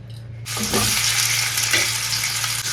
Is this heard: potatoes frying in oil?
yes